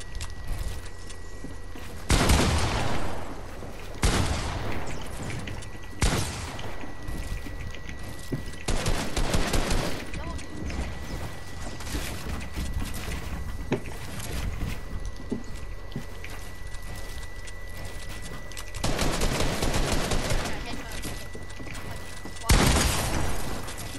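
Gunfire in the video game Fortnite comes in several loud bursts of rapid shots with booms, separated by quieter stretches of game noise and a player talking.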